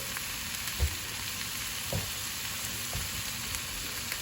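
Canola oil sizzles softly in a pan on the stove before eggs go in for corned beef hash, a steady faint hiss broken by a few light knocks, with no voices.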